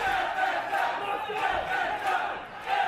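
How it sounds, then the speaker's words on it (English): Wrestling crowd at a live indie show cheering and chanting in rhythmic swells, a loud mass of voices rising and falling in pulses throughout. "Crowd is fire right now for Gregory Sharpe"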